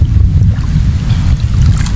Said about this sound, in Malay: Dengar hujan ni.